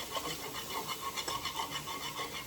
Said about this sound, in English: I'm gonna whisk all this up.